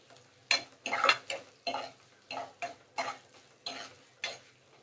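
Bottle gourd peel is stirred and fried in a pan, with about nine evenly spaced scraping strokes of a spatula over a faint sizzle, fairly close and alone.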